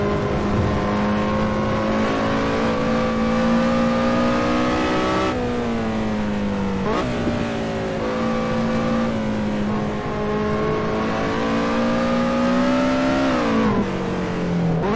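Lotus Exige 240R racing in a video game, its engine droning steadily at high revs with several sharp gear-shift dips and pitch drops, loud and continuous with no talk.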